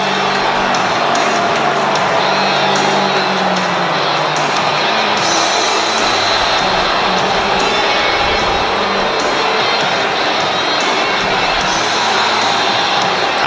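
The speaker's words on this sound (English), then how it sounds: "he's certainly getting a mixed reaction from the Barcelona crowd" A mixed crowd reaction from the Barcelona audience in WWE 2K26 rings out as steady, loud arena noise, a dense roar with scattered cheers and whoops running unbroken throughout.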